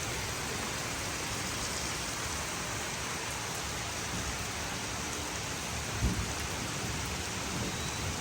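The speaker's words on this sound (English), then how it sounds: "Thunderstorm. Hear the thunder," Heavy rain pouring down steadily in a thunderstorm, a dense constant hiss close by with a low thunder rumble rising briefly near the end.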